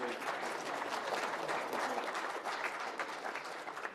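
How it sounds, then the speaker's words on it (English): Audience applause for the panelists at a hydrogen summit in a large hall, a steady wash of clapping held at an even level from start to finish. "I think our panelists really deserve a round of applause."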